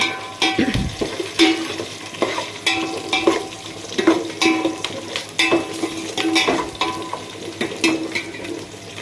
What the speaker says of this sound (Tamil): போட்டு நல்லா வதக்கி விட்டுக்கலாம்